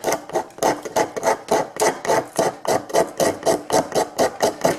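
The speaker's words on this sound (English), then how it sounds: "the fact that it's that hard to scrape is a good indication, again, that that's fatwood" A blade is scraped repeatedly across a hard piece of fatwood, each stroke a rough rasp in a steady rhythm of about three per second, close and alone.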